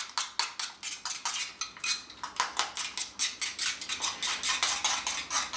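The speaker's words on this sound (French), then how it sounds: "vous mélangez jusqu'à obtenir un mélange homogène" A utensil is stirred briskly around a bowl while a breakfast mixture is beaten smooth, giving a fast, regular run of close, bright clinks and scrapes with no voices.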